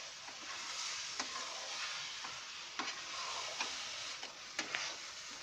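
Grated carrot halwa with cardamom powder being stirred in a pan, with a soft continuous sizzle and repeated scraping strokes of the spoon at an uneven pace.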